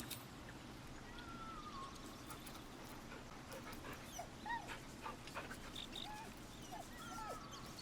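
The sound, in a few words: dog in the video game Baldur's Gate 3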